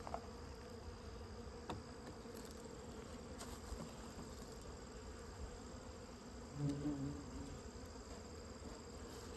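Honeybees hum and buzz around a hive during autumn feeding, a continuous soft drone of many insects with occasional louder passes close by and no talking.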